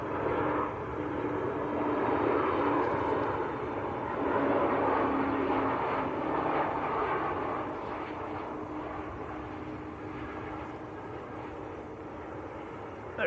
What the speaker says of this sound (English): This is EgyptAir from Cairo, A321neo.